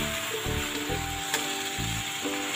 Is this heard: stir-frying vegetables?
yes